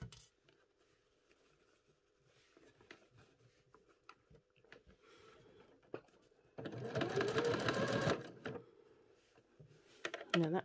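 A sewing machine stitching in a garment sleeve runs in one loud, fast burst of about a second and a half after quiet handling noises, then stops.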